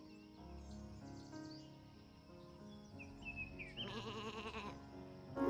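A sheep bleats in a video game on the Isle of Ewe, a wavering, nasal cry rising near the end over steady game music.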